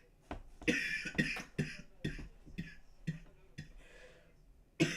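A person coughs repeatedly, about eight or nine hacking coughs in uneven bursts, close and fairly loud with short pauses between them.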